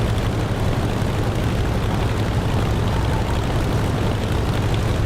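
Jet aircraft roaring low past the player in the DCS flight simulator game, a steady loud broadband engine rush with a deep rumble that holds at full strength throughout.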